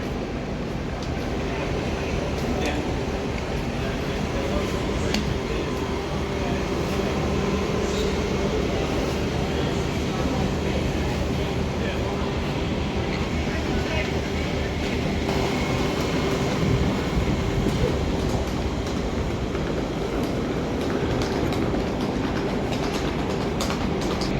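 A train runs along the rails at a Sydney station, a steady loud rumble with rattling wheel clatter that carries on without a break, and faint voices sit in the background.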